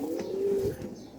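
A single pigeon gives a low, drawn-out coo up close, one smooth burr that fades toward the end, heard on its own without speech.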